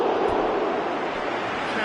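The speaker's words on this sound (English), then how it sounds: "Crowd reaction tells you just how close that was." Football crowd roaring at a near miss in the PES 2018 video game, a dense, loud, sustained wash of stadium noise filling the whole brief moment.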